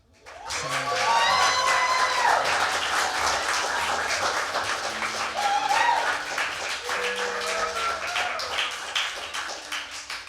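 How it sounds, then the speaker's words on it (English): Audience at a band's record release concert claps and cheers steadily for several seconds, a dense, loud wash of hand claps with some whoops, while sustained tones from the band ring underneath. "Can we give just a slight little golf clap for my beautiful band?"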